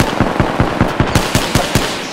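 Rapid automatic gunfire in Apex Legends, about ten sharp, evenly spaced shots in quick succession, loud and close, with no talking over them.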